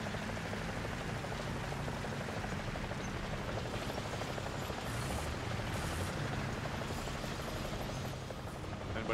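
A helicopter in War Thunder's ground realistic battles throbs as a steady, loud rotor and engine roar. It fills the full nine seconds without a break, under dense broadband noise.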